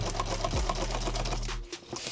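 A sewing machine stitches in a rapid, steady mechanical rhythm, then stops abruptly near the end, leaving faint clicks.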